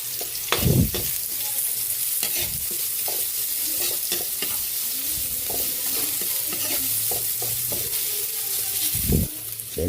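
Onion fries in a pan after garlic for a sautéed chayote dish, with a continuous close sizzle broken by loud scraping stir strokes near the start and end and softer stirring in between.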